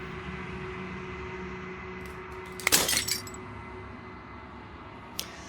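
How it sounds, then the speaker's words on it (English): Glass shatters in the Slay the Princess video game: a single sharp, loud crash bursts mid-clip over a quiet ambient hum, followed by a faint tinkle moments later. "This final fragment of glass shatters"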